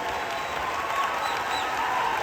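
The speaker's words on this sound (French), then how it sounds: "Nous avons demandé un tonnerre d'applaudissements pour Queen Compa Annie" Crowd applause at a graduation ceremony for a computer school, steady moderate clapping from an indoor audience with faint background murmur, no clear speech.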